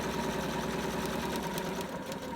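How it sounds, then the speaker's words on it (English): A sewing machine stitching along the edge of a ribbon fabric face mask, a faint, continuous mechanical whir with a steady rhythm and no talking. "just sewing along the edge there"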